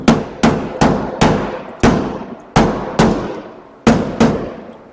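Metal hammer strikes on 1957 Chevy body sheet metal ring out sharply, about a dozen loud, evenly spaced blows with brief ringing decay, close by and without talk.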